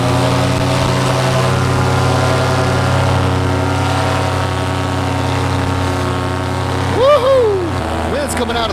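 A paramotor engine running steadily at a loud, droning pitch close by, then revving up sharply near the end with rising whines as power is added.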